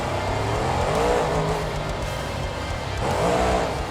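A monster truck engine in BeamNG.drive roars and revs at a Foxboro stadium freestyle competition, a steady dense growl with rising pitch swells, loud and continuous throughout.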